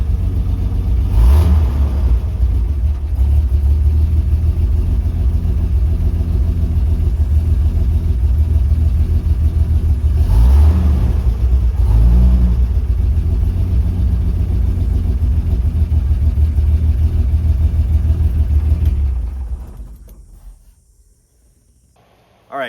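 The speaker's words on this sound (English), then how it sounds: "the truck is not running perfect, but it is within spitting distance of actually being where it should" A 1956 International S-160 4x4 truck engine runs steadily after vacuum leak repairs, with a loud, close mid-pitched rumble and a few brief revs before it cuts off near the end.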